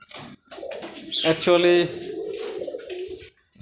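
Pigeons kept with tied wings coo in a low, throaty burble close by, layered under someone talking.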